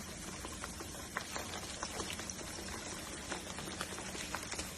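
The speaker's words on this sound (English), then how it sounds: "You see it bubbling like that?" Fish pieces frying in hot bubbling oil at home, a steady dense crackle and sizzle with scattered sharper pops throughout, fairly close and even in level.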